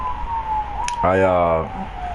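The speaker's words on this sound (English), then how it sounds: "got that New York siren in the background" A New York police siren wails outside, a wavering tone that sweeps down and then into a strong harmonic blast, heard from the street under room noise.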